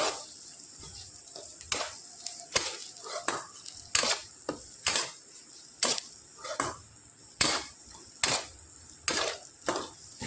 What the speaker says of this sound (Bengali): সমস্ত কিছু একটু ভালো করে নাড়াচাড়া করে নেব